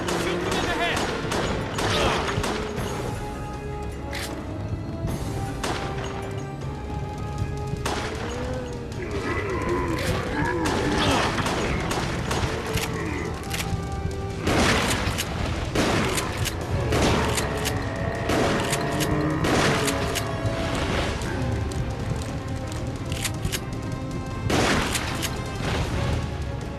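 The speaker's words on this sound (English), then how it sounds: "Shoot them in the head!" Gunfire in the Resident Evil Darkside Chronicles game as zombies close in from all sides, dense bursts and crashes layered with game music under an urgent voice calling out.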